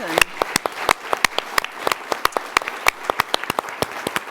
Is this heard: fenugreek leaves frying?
no